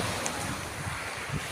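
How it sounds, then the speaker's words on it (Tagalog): Sea waves wash at Banalo beach in Lubo, Batangas, a soft continuous surf roar mixed with gusty wind buffeting the microphone, faint low swells rising and falling. "Grabe ang dagat dito, guys."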